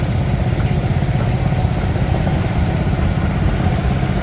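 A restored 1980 John Deere Model 111 tractor idles at a steady, even rumble in an outdoor parade, the engine close and continuous with no pauses or voices.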